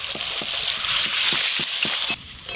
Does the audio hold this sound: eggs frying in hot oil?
yes